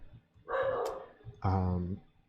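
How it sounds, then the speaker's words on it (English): Dogs barking in the background of a room, two separate bursts of barking heard alone, each under a second long. "Sorry for my dogs barking in the background."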